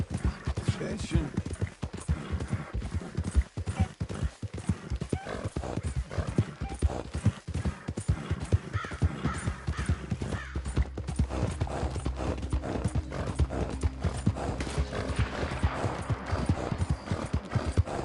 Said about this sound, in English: God damn drunk horse.